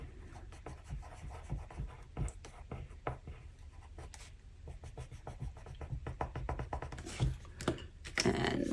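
A watercolour pencil scratches and rubs across paper while colouring, a soft irregular series of short strokes with occasional louder scrapes, close up and without speech.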